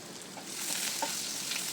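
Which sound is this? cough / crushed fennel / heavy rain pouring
crushed fennel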